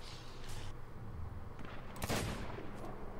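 Gunfire in the pirate video game Sea of Thieves: a couple of muffled shots early, then one sharp, louder blast midway, all over a low rumbling background.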